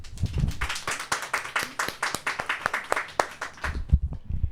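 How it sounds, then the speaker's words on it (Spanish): Applause during a live-streamed discussion show, a modest group clapping in quick, distinct close hand claps that carry on steadily for several seconds, then thin out and end with a few louder knocks. "Agradecemos la participación de Katia Ortega con un fuerte aplauso."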